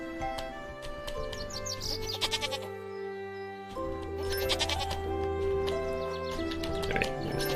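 Goats in a farming video game bleat repeatedly, wavering cries over a steady background of game music and ambient sound, with a short quieter gap midway.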